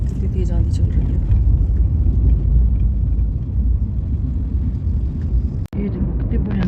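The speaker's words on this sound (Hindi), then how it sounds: "अब कितनी तेज आंधी चल रही है।" A strong windstorm roars steadily across the microphone in a loud, continuous low rumble, with brief faint voices at the edges and a sudden cut near the end.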